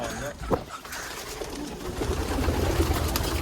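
Homing pigeons coo inside a coop, soft low burbling calls running steadily through the clip with brief rustles and movement noises mixed in.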